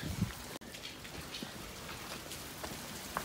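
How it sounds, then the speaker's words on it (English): Heavy rain falling steadily outdoors, a dense even patter of drops with a few louder nearby splashes, no one speaking. "It's raining a lot."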